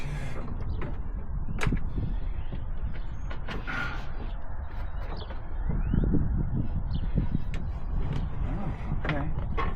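A heavy drawer unit of about 45 pounds is hoisted and eased into a custom drawer system, with creaks, knocks and scraping contact sounds running steadily throughout, fairly close.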